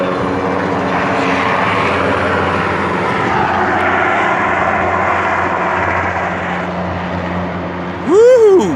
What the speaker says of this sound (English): That's a sky crane, ain't it? Yeah, that's a Sikorsky.